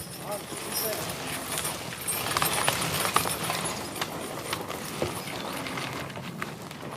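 Hooves of two draught horses on an old-fashioned farm clop steadily at working pace while logs are hauled in the woods, close by under continuous outdoor noise and scattered knocks.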